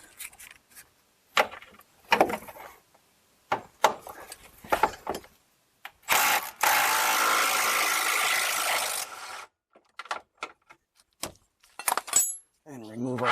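Metal tool work under a Chrysler Town and Country or Dodge Caravan minivan as an S-wrench is fitted to the rear shock bolt: scattered clinks, scrapes and ratcheting clicks, with a sustained grinding rattle in the middle, close up.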